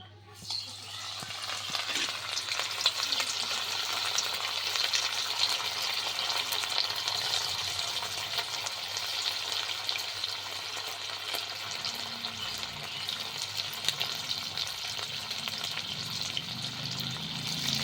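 Cauliflower florets for chili gobi fry in hot oil in a wok with a steady, loud, dense sizzle and crackle that holds throughout, alone without talk.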